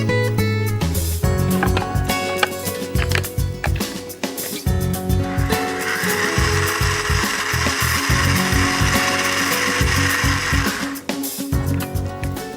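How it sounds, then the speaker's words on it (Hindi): A kitchen mixer grinder churns fried masala paste, its motor whirring loudly in pulsing bursts with rough, gritty rattling and brief stops and restarts. "इसे अब हम मिक्सी में पीसेंगे"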